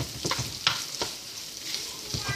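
Blood sausage and onions cooking in a pan, with soft stirring scrapes and a few brief clatters over a faint, steady sizzle.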